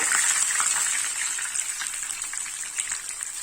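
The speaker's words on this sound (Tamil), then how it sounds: "இப்போ நம்ம ரெடி பண்ணி வச்சிருந்த மீன் அதில் போட்டுடலாம்." Jilebi fish sizzling and bubbling in hot oil over a medium flame, with a steady, close hiss of frying that runs continuously from start to finish.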